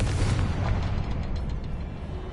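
A Confringo blasting spell explodes in the Hogwarts Legacy video game, a loud, deep rumbling blast that rolls on for a couple of seconds with no voices over it.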